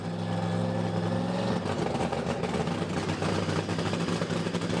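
A Funny Car drag racing engine fires up at Santa Pod Raceway and holds a loud, steady, dense roar throughout, with a slight change in tone partway through.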